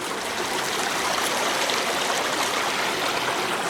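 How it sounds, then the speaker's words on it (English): A creek in the woods flows steadily with a dense, even rush of water, close and constant throughout with no voices. "There's the creek that I was showing you."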